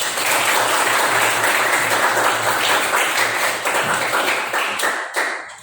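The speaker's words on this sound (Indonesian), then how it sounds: "sebelumnya tepuk tangan dulu buat Iqbal" Students in a classroom give a round of applause, dense and lively clapping that carries steadily for several seconds before tapering off at the end.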